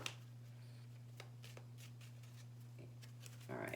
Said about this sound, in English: I want to shuffle these really quick.